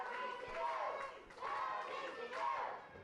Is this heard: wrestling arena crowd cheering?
yes